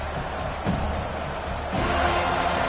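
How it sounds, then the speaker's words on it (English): Stadium crowd at a Florida State versus Florida football game, a continuous broad roar of many distant voices that surges slightly louder toward the end, with no close speech. "Listen to the crowd energy here in the early going."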